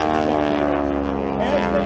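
A big 5,000-pound aerobatic airplane at an air show drones with a steady, loud engine and propeller tone, continuous and unbroken throughout.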